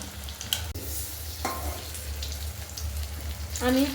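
Steady sizzling of chicken pakoras frying in oil, with a few soft clinks and stirring scrapes along the way.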